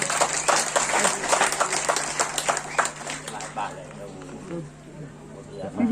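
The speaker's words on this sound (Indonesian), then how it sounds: "mari kita berikan aplaus" Crowd applause at a community ceremony in Watumanu, Indonesia, where official decrees are handed over: dense, steady clapping for about four seconds that thins out and fades, with voices around it.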